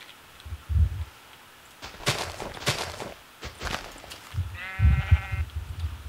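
Sheep bleat in a blocky farming video game at dusk, a short wavering cry near the end among scattered footstep-like thumps and game noise.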